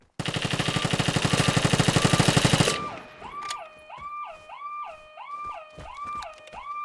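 Rapid automatic gunfire from an enemy in a video game blasts in a dense, loud burst for a few seconds, then gives way to a repeating rising-and-falling electronic siren-like tone.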